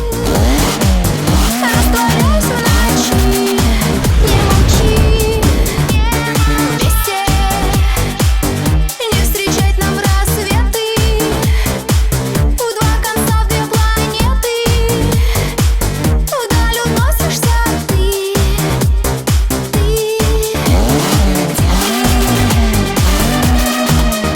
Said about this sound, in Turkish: Peki motor sesi nasıl?